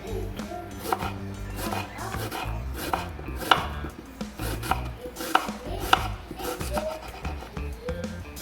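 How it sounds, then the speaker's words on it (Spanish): A knife chops a white onion on a board for a roasted sweet potato salad, giving quick, repeated sharp strokes in an uneven rhythm over a steady tonal background. "Vamos a cortar esta cebolla blanca, y vamos a agregársela a nuestra ensalada."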